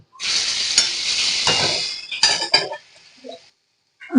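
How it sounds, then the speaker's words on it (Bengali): Puti fish frying in a pan gives a loud, close sizzle for about three seconds, then fades while a few sharp clinks of a utensil against the pan follow, with no voices. "এবার নামিয়ে নিয়ে বাকি মাছগুলো আমি ভেজে নেব"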